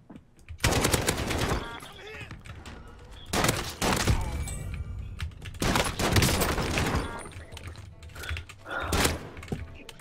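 Call of Duty: Warzone gameplay with loud bursts of automatic gunfire and single shots in several volleys, players talking excitedly over the shooting.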